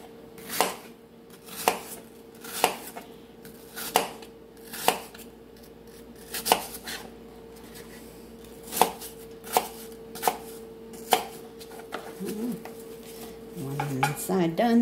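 A knife cuts down through a cored apple for an apple crisp on a kitchen board, giving a steady series of crisp, close chops about once a second. A louder, busier clatter of handling follows at the end.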